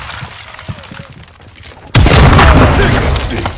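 A Claymore mine goes off in Call of Duty: Modern Warfare 2 Infected mode, a sudden loud, close boom with a shattering crack that rolls on as a heavy rumble after quieter game sounds.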